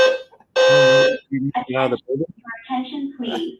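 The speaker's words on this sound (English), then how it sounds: "my fire alarm is going off" A building's fire alarm sounds a loud, steady electronic tone for about half a second, then an automated voice announcement starts over it, with a few shorter alarm-like bursts mixed into the speech.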